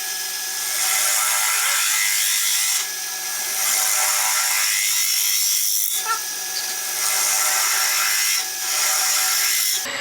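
A bowl gouge cutting into wood on a lathe gives a steady, loud broadband hiss in long sustained passes with brief pauses between cuts, alone with no talk.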